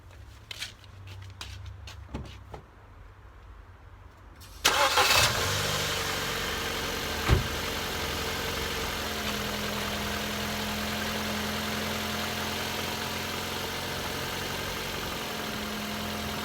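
A Ford Fiesta that had refused to start, caused by a tripped fuel cut-off, cranks for a moment and then fires. It settles into a steady, close idle that holds to the end, with one sharp knock partway through.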